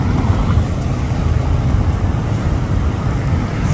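A purple Nissan GT-R on a Paris street gives off a steady, loud engine rumble, low and continuous across the whole stretch, with no talk over it.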